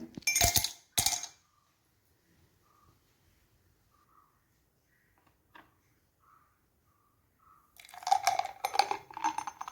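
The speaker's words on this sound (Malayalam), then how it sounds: "ഇതിലേക്ക് രണ്ട് മൂന്ന് ഐസ് ക്യൂബ് ഇട്ട് കൊടുക്കാം" A few ice cubes clink into a glass of orange juice in quick bursts at the start and again near the end, with near silence between.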